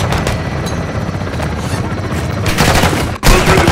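Artillery fire mission explosions in Call of Duty Modern Warfare 2, a loud sustained rumble of overlapping blasts and gunfire, swelling near the end with a sharp cut and a heavy boom, no voices.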